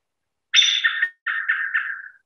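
A songbird's contact calls ring out clearly and up close: one longer, richer call, then a short gap and a run of three linked call notes, with no other sound behind them.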